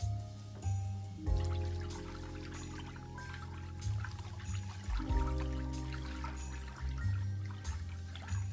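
Melted butter poured into a dish in a home kitchen, a soft, close trickling pour with faint drips, quiet and alone under a low background hum.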